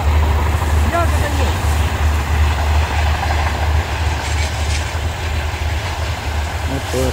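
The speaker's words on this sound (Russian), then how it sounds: "Вот поезд идет." Train passing near berry-picking grounds on a summer day, a loud continuous low rumble and rolling rail noise held throughout, close by, with people talking faintly over it.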